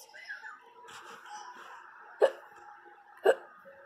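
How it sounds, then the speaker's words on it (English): Two sharp, loud hiccups from a person, roughly a second apart, rising above softer breathy vocal sounds and murmurs in a quiet indoor setting. "I actually have the hiccups."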